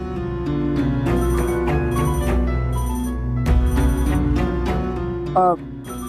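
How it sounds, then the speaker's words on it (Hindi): A telephone rings repeatedly in a steady electronic pattern, fairly loud, with background music or ambience running underneath. "वो दोस्त का फोन है"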